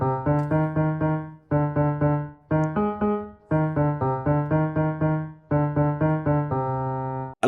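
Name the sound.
Mary Had a Little Lamb melody with added dissonant intervals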